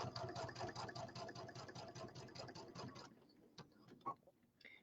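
A sewing machine stitching a settee pillow runs in a rapid even chatter of needle strokes for about three seconds, then stops, followed by a few faint handling clicks and soft rustles, close and fairly quiet.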